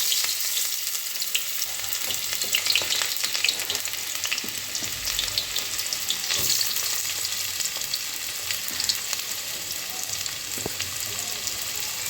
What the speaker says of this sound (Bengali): পেঁয়াজটা সুন্দর ভাজা হবে।